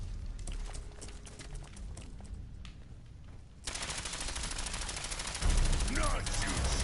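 Rapid gunfire aimed at a legendary Mirelurk Razor Claw in Fallout 4, a dense continuous rattle of shots that swells louder midway and again near the end, close and loud.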